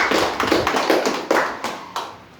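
A church congregation claps together for Jesus during a service, a dense run of near hand claps with a few sharper accents, fading slightly toward the end.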